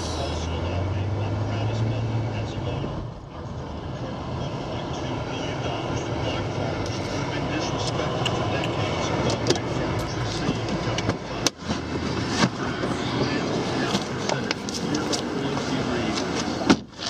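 A 2013 Chevrolet Impala runs, drives and reverses with a steady low engine drone and some mechanical whirring, heard close, while someone talks over it throughout.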